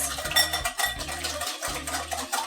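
A whisk beats vegan blood orange donut batter in a bowl, giving quick rhythmic clinks and scrapes in steady repeated strokes, close and fairly loud with no talk.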